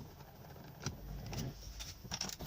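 A wrench tightens the battery clamp screw on a Seat Ibiza, giving a few faint metallic clicks and ratcheting scrapes close by in a quiet space, with no talking.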